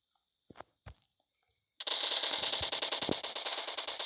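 PUBG Mobile gunfire: two sharp isolated shots, then a sustained dense burst of rapid automatic fire with a few heavier thumps mixed in, loud and close.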